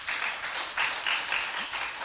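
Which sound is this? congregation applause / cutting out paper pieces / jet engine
congregation applause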